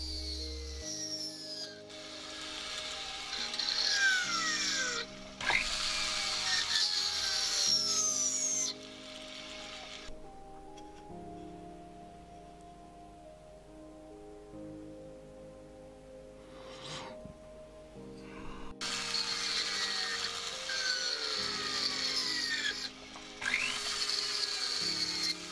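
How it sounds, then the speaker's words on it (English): A small rotary burr cuts the stone seat into a gold tension ring, a high whining grind that runs in several bursts, with quieter spells of motor hum between passes. "We use a burr to cut out the housing for the stone."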